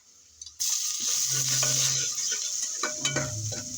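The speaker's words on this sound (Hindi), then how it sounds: "अब मैं इसमें डाल दूँगी अदरक लहसुन सब्ज़ मिर्चों का पेस्ट मैंने बनाया था, वो डाल देती हूँ इसमें।" Ginger, garlic and green chili paste hits browned onions in hot oil, bursting into a sudden loud sizzle after a moment of quiet, followed by clinks and scrapes of stirring in the pan.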